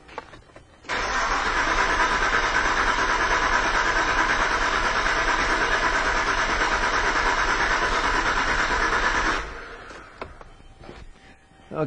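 A car engine cranks steadily for roughly eight seconds during a low engine power diagnosis, a loud continuous whirring starter drone that then cuts out, leaving quieter background.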